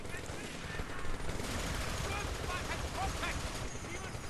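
Continuous rattling gunfire from soldiers firing out of a window in a real-time strategy battle, steady and dense throughout with occasional sharper bursts, under a busy wash of other battle noise.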